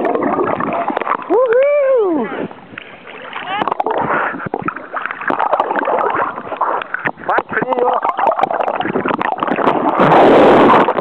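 A person wading into cold seawater, with splashing and rushing water plus wind buffeting the microphone throughout, as people whoop and shout nearby.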